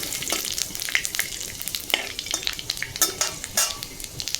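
Panch phoron spices, red chillies and bay leaves fry in hot oil for a village-style jackfruit seed dal, a close crackling sizzle with sharp pops and metal utensil scrapes, no voices.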